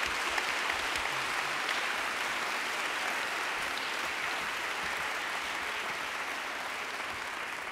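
An audience at a round table discussion on independent bookshop networks breaks into sustained dense applause, a steady roar of many clapping hands filling the room throughout.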